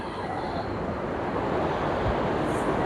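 Sea waves and wind at Sam Roi Yot beach near Hua Hin make a steady, loud broadband rush of surf, with wind buffeting the microphone and the roar swelling slightly toward the end.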